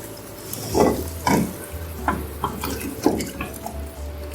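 Boiled beef trotters being stirred into a masala pot, several wet squelching scrapes and clanks at an irregular rhythm, close and moderately loud.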